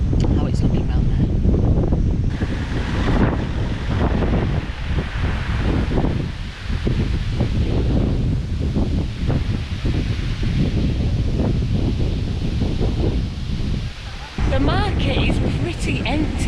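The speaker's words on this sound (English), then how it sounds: "it is really, really windy" Strong wind blows outdoors in Benidorm during a stormy September weekend, a loud continuous roar and buffeting on the microphone with gusty swells throughout.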